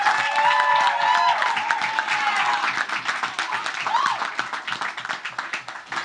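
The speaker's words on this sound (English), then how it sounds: "So give yourself a round of applause." Audience at a battle of the bands applauding a rapper, with a dense burst of clapping that starts strong and gradually thins and fades.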